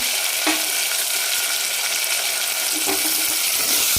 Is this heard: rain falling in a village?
no